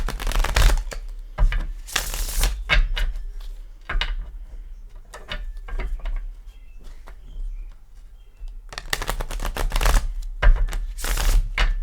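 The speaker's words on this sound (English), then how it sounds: "Let me give this a couple shuffles." Tarot cards being shuffled in repeated bursts of crisp riffling and flapping, close by, with short quiet pauses between shuffles and no talking.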